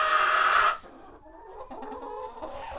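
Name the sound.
chickens clucking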